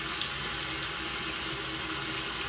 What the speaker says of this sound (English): So I filled it up with water